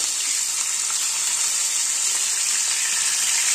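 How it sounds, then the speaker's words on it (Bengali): Vola fish pieces frying in oil in a pan until reddish, giving off a steady, dense, close sizzle that holds evenly throughout with no talking. "মাছটাকে আমি লাল লাল করে ভেজে নেবো।"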